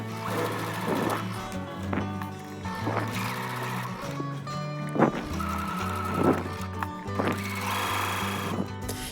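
Sewing machine stitching fabric for a tote bag, running in short bursts of rapid mechanical whirring with brief pauses between runs, close and fairly quiet.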